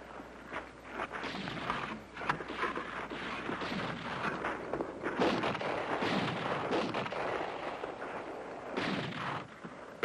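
Artillery fire in a 1970 mountain adventure film: a dense, continuous barrage of booming blasts and rumbling impacts, loud and close, with no voices over it.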